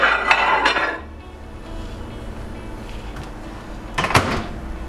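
Tortillas on a plate are set into a microwave: a ceramic plate clatters near the start, then quiet, then a door or latch clunks shut around the four-second mark, with no talking.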